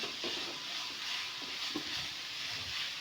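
Grated carrot frying in a pan for carrot halwa makes a soft, steady sizzle, with faint stirring scrapes recurring at intervals.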